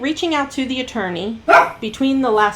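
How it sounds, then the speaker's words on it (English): A pet dog barks loudly in a few sharp bursts close to the microphone, overlapping a man's continuous speech in an indoor recording. "sorry, that's my dog"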